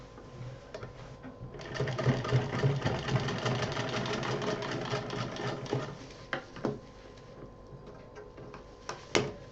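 A sewing machine stitches fabric loops for a child's cloth wardrobe, a fast continuous mechanical whirring burst of several seconds followed by a few short stitching spurts, close and fairly quiet.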